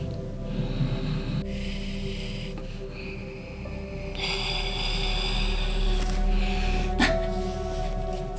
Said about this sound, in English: that is how we exhale via Ujjayi breath